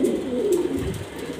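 Home-bred domestic grizzle pigeons give soft, low rolling coos in a continuous murmur, moderately faint and without anyone talking.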